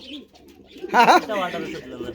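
Jacobin pigeons coo nearby in soft, throaty bursts, with people talking around them at a pigeon sale.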